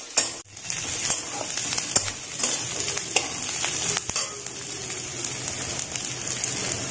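Potatoes and cauliflower for aloo gobi fry on a medium flame, giving a loud, continuous close-up sizzle with scattered crackles and scraping stirring sounds, without talk.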